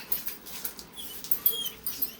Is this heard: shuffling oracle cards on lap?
no